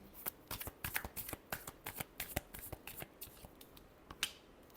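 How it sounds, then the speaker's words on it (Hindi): A tarot deck being shuffled at close range, a quick, steady series of sharp card snaps and riffles over a faint background hiss. "last shuffle"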